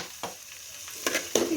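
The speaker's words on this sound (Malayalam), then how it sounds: "അടുത്തമ്മ വെളുത്തുള്ളി ഇട്ട് കൊടുക്കുകയാണ്" Garlic frying in a pan for a Kerala-style fish head curry, a steady soft sizzle with sharp bursts as it is stirred, close and fairly quiet.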